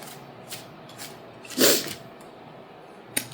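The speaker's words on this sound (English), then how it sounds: "I'm going to sneeze" A single sharp sneeze bursts out midway through a quiet room, with a few faint rustles and clicks before and a small tap after.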